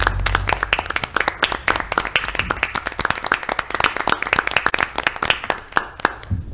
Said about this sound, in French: applaudissons nos employés et tout le monde qui ont participé